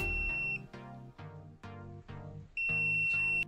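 Continuity-test beep from an ANENG 683 digital multimeter: a steady, high-pitched tone near the start and again toward the end, heard over a rhythmic musical backing.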